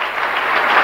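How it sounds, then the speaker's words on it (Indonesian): A church congregation applauds together in a continuous, dense wash of clapping that holds steady and swells slightly toward the end, with no talking over it. "Berikan tepuk tangan bagi Allah kita."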